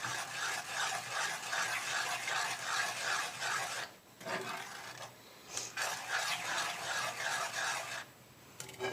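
Butterscotch pie filling is stirred with milk in a pan: rhythmic, close scraping and rubbing strokes that repeat steadily, pausing briefly twice.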